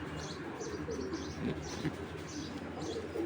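A racing pigeon coos in a soft, repeated rhythm, several low throaty calls close by over faint background noise, with no talking.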